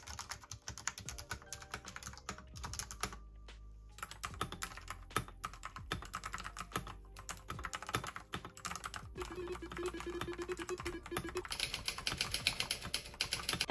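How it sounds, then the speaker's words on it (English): Typing on a Vissles V84 mechanical keyboard fitted with custom pink keycaps, a steady rapid stream of close, crisp key clacks with brief pauses, no talking. "I did the same typing test with the new keycaps and it scored slightly worse compared to the original"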